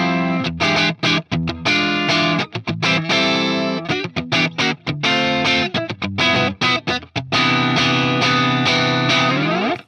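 Electric guitar fitted with Graph Tech String Saver Classics saddles, played through heavy distortion and chorus effects, with loud sustained chords and choppy rhythmic stops before a long ringing final chord.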